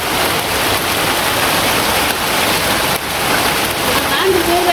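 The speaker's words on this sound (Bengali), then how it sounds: "এরকম সকালবেলাই এরকম বৃষ্টি নামলে কিরকম লাগে" Morning rain falls in a village, a dense, continuous hiss that stays loud and even throughout.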